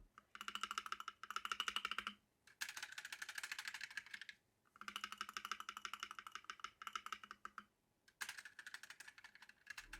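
Typing on a Nuphy Halo65 65% mechanical keyboard with pre-lubed switches and silicone dampening, quiet rapid keystrokes in bursts of a couple of seconds separated by short pauses, close and alone.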